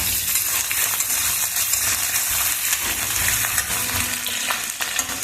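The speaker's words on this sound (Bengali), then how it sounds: "আর মশলার মধ্যে লাগবে ভালো মতন একটু পেঁয়াজটাও ভেজে নেবো।" Chopped onion frying in hot mustard oil with pointed gourd, a loud continuous sizzle with occasional scraping and clinks of a utensil, no voices.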